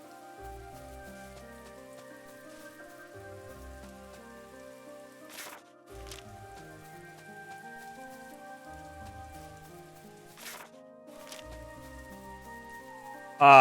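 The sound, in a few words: rain falling in the city of Tormund, video game Chained Echoes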